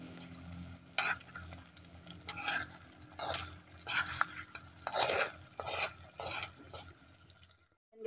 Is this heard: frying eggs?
yes